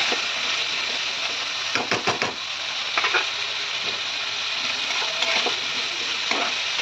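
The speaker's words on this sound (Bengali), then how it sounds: "হলুদ দিলাম, আর দিলাম নুন, এই ভাজতে দিলাম" Food frying in a pan with turmeric and salt, a dense continuous sizzle with a few clustered scrapes and clinks of stirring, close and steady throughout.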